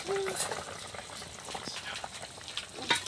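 Taro curry simmers and bubbles softly in a pan with fish pieces being added, a faint wet burble with small clinks, quiet and close.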